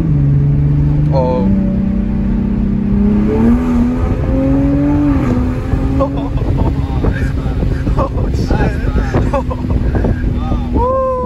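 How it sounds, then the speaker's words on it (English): A 500 wheel-horsepower Toyota Supra accelerating hard down a straight, its loud engine note climbing through the gears with rising pitch sweeps and shift breaks, heard from inside the car with wind noise and excited voices over it. "This car is crazy. It sounds so good too"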